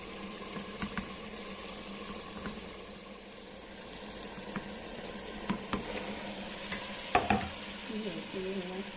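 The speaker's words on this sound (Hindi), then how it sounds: "अब हम इसमें सुहाना यानी मोरिंगा डाल देंगे और फिर उसको भुनने देंगे" Moringa leaves frying in a pan while a chicken dish cooks: a steady, soft sizzle runs throughout, with scattered stirring clicks and scrapes, louder near the end.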